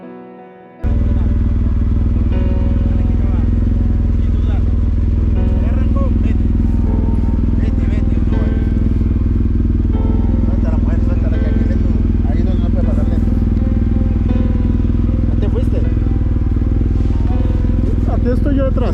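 A motorcycle engine drones loudly and steadily while riding off-road on the Georgia Backcountry Discovery Route, rumbling and clattering while a voice speaks over it.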